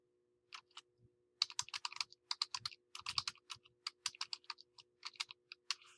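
Typing on a computer keyboard, with quick, close key clicks arriving in uneven bursts separated by short pauses, crisp and isolated against a quiet background.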